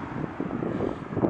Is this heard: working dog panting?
no